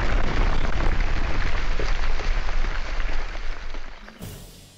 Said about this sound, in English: I think it's firework explosion B, but it also kind of sounds like wood crate impact